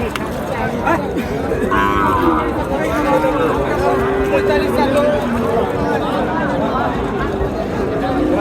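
Gir cattle lowing amid a busy outdoor crowd at the Chhatra livestock market in Naogaon, Bangladesh, with people talking and chattering throughout and a couple of drawn-out moos rising above the noise.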